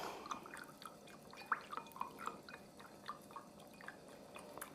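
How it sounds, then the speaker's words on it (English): A spoon stirs flower food into water, giving soft, quick liquid clinks and light sloshes at an irregular pace, close but faint, with no talking. "I go ahead and I stir the flower food up."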